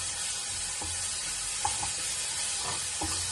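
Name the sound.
onion, cumin and chilli paste frying in a pan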